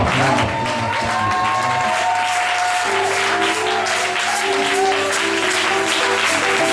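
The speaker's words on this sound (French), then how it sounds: "Ces acclamations" Church congregation applauding and cheering in a French-language worship service, continuous thick clapping under held musical tones, with a more mixed, louder burst at the start.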